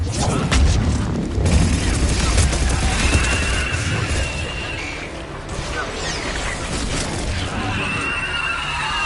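Missiles explode in the video game Mass Effect 3 as a dense, loud barrage of rumbling booms and crashes, with battle noise underneath and voices talking over it.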